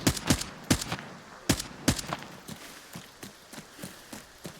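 Bursts of gunfire in the shooter Arena Breakout Infinite, sharp repeated shots in irregular clusters, louder at first then a steadier run of lighter cracks, with no talk over them.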